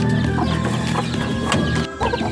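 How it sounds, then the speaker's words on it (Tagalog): Young chicks recently moved to a new pen cheep amid clucking hens on a small poultry farm, a busy, close chorus of bird calls with no talking. "ito nga pala yung mga bagong sisiw natin ibinaba kahapon"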